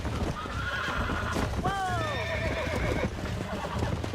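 A horse in the Red Dead Redemption video game whinnies loudly in a long, descending neigh while being broken in, with hoof clatter and game ambience underneath.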